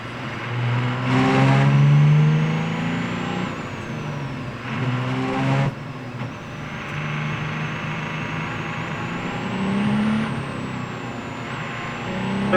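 Sports prototype racing cars at Sebring during an American Le Mans Series race roar past one after another, engines rising and falling as they accelerate and brake, loud and fairly close with no talk.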